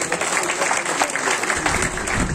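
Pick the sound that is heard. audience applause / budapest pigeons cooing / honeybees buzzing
audience applause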